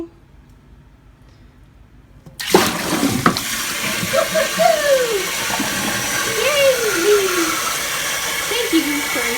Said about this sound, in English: flushing.